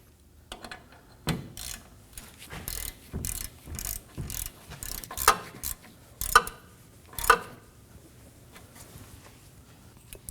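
A hand ratchet snugs a mounting bolt on the rear wheel hub assembly of a Nissan Armada, giving repeated bursts of close, crisp clicking strokes with short pauses between them, with no talking.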